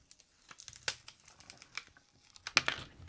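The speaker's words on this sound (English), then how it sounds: "Remove the transfer tape." Transfer tape is peeled off a Cricut craft in short crinkly tearing bursts, quiet and close, with a sharper rip near the end.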